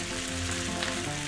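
Pork stir fry sizzles in a hot pan just before sauce goes in, a brief, steady and fairly quiet frying crackle heard alone.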